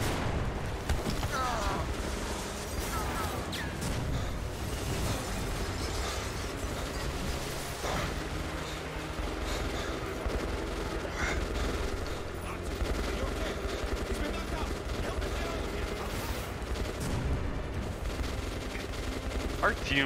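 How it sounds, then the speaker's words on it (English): Dense, continuous gunfire and explosions from the video game Metro Last Light form a busy, loud battle din throughout. "Probably gunfire."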